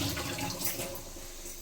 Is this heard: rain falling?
no